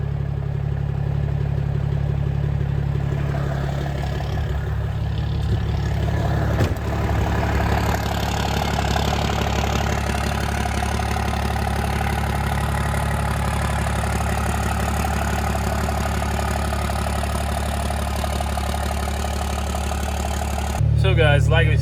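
A Cummins diesel truck engine idling just after firing up following three days of sitting, with its injection pump rebuilt; a loud, steady low rumble runs continuously up close, and a voice talks over it.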